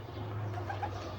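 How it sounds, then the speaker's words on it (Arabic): Pigeons on a rooftop give soft, low cooing over a steady hum of background noise, the calls blending into one another without any clear pause. "حمام على السطح اهوت"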